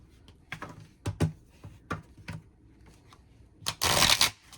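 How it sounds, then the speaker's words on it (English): Tarot cards from a Moonchild Shadow Edition deck, thin and very bendy, riffled in quarters: scattered soft crisp flicks and snaps, then a dense, loud rustling riffle near the end, close up and with no talk. "I'm gonna break them up into quarters, and I'm gonna shuffle those and see how that feels."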